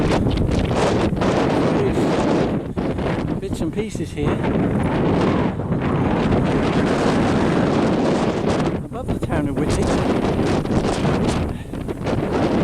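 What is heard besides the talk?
wind blowing on hilltop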